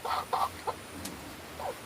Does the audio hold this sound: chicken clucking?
yes